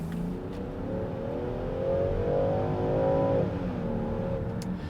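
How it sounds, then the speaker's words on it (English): A Land Rover Defender 130 X-Dynamic SE engine revs hard under acceleration, a loud, smooth, rising drone heard from inside the vehicle that climbs steadily and then eases off. "it revs really high for what I'd expect from a Land Rover"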